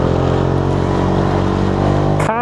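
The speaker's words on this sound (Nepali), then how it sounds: "बाइक गुन्जेको, बाइकको साउन्ड गुन्जेको मात्रै सुन्छ नि त" A motorcycle engine drones steadily and loudly on a quiet village road during a rainy forest ride, then briefly shifts and revs near the end.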